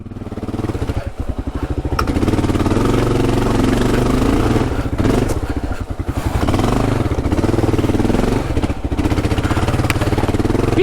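A Kawasaki KLR adventure motorcycle runs loud and close throughout while being ridden, its thumping single-cylinder engine revving up and easing off with clattering and wind noise.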